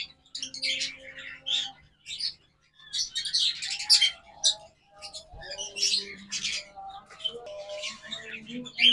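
Red-eyed lutino lovebirds in a breeding pair cage chirp and tweet in rapid, overlapping bursts, fairly close and busy, with brief pauses between flurries.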